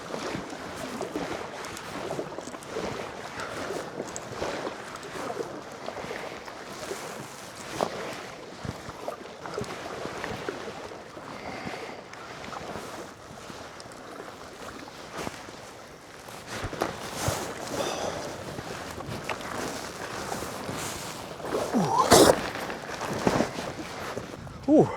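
An Anfibio Rebel 2k packraft is paddled across wind-chopped Buttermere, soft irregular water splashes and paddle strokes mixed with wind buffeting on the microphone, with a few louder knocks near the end.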